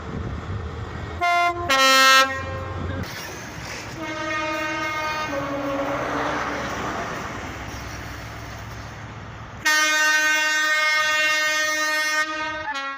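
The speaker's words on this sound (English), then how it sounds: "this is the last time the high-speed train will be passing through the station" The GWR Flying Banana high-speed train passes through Swindon station with repeated loud horn blasts. Short toots come first, then a long sustained horn over rolling rail noise, and a final strong blast near the end.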